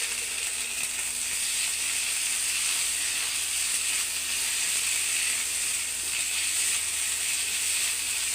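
Onion with ginger and garlic paste fries in hot oil, giving a faint, even hiss of sizzling that holds steady throughout.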